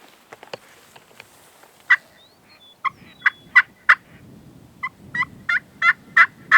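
A wild turkey gobbles repeatedly in open country during a windy spring hunt on Nebraska public land, a series of loud, sharp bursts at moderate distance, closely spaced toward the end, with low wind rumble beneath and no talking.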